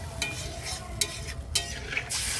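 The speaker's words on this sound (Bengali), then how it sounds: "আমার মশলা কষানো হয়ে গেছে, এবার আমি জল দিয়ে দিচ্ছি।" Water poured into sizzling spiced curry masala in a pan, ahead of hilsa fish in mustard sauce: steady close frying hiss with a few clattering stirs and scrapes, building to a broad rushing sizzle near the end.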